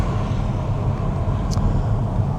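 A Mercedes pulls out, giving a brief, steady low engine rumble mixed with road noise and no voices.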